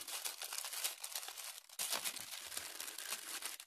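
Crinkly plastic rustles and crumples continuously as a thin plastic mail bag is handled and pulled open, close and quiet.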